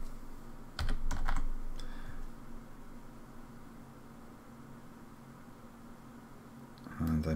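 Keys clacking on a computer keyboard while code is typed, a short quick flurry of taps early on, then quiet with a faint hum and another brief burst at the end.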